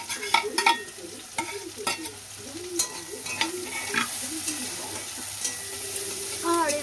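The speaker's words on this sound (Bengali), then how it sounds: "আর এবারে পেঁয়াজ রসুন কাঁচা লঙ্কা সব দিয়ে দেবো।" Onion, garlic and green chili frying in a pan, with a steady sizzle and repeated scraping and stirring strokes of a spatula against the pan; close and fairly loud, no one talking.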